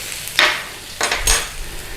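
Garlic dropped into hot oil in a pan over a low flame, a sudden bright crackling sizzle followed by a couple more bursts and a dull knock, close and moderately loud with no talking.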